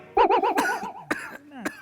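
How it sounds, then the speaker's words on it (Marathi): On a comedy stage show, a performer gives a few loud, exaggerated coughs mixed with wavering, strained vocal sounds, close and brief. "खोकला खोकला आला तुम्हाला"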